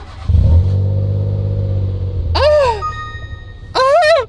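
A Citroen C1 fitted with a loud aftermarket exhaust idles with a deep, bassy rumble. It then gives two sharp revs, each rising and falling back with popping, close and loud.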